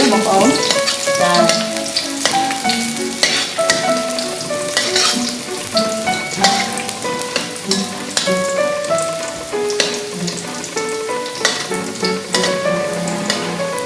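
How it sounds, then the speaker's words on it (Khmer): Garlic fries in oil in a hot pan with a loud, steady sizzle, broken by the frequent clatter of stirring and crackling pops close at hand and without talk. "យើងត្រូវរំលីងខ្ទឹមសយើងឲ្យឡើងក្រហមពុះឈ្ងុយ"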